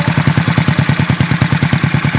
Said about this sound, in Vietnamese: Mấy em coi tiếng máy nó nổ này.